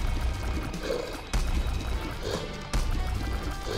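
Watery splashes from attacks in The Binding of Isaac: Afterbirth+, a dense run of soft wet impacts under steady game music, with two sharper bursts.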